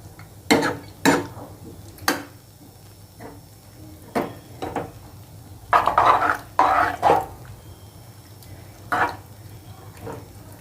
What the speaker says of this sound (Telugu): సాల్ట్ వేసుకున్నాం కదా, ఇప్పుడు మరొకసారి బాగా సాల్ట్ పట్టేటట్టు కలుపుకుందాం